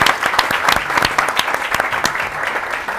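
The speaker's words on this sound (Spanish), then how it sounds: "Un aplauso para Alex, por favor" Dense audience applause for a guest on an NBA fan show recorded at a café, a steady wash of many hands clapping at once, close and even in loudness, with no talking over it.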